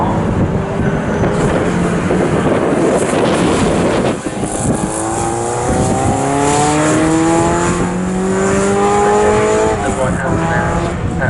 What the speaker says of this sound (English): there is the Charlie Campbell Peugeot RCZ